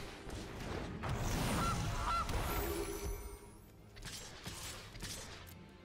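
Goose honks from a creature card in MTG Arena, a few honking calls over layered game sounds and music, moderately loud throughout.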